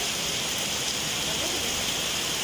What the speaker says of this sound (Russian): Вот это дождина.